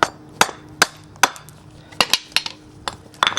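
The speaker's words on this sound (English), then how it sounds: "Take a hammer, small piece of wood, just to make sure I don't really mess up the surface." Several sharp metallic taps of a hammer striking a wooden block held against a metal bushing during Ford Mustang GT brake caliper prep, irregularly spaced, close and clear over a faint background hum.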